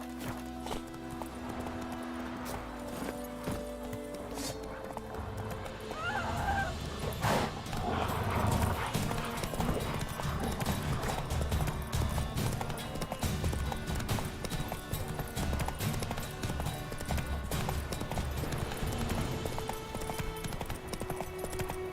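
Roach, the horse in The Witcher 3, gallops with steady, rapid hoofbeats that pick up pace partway through and then run continuously over game ambience and a few faint animal calls.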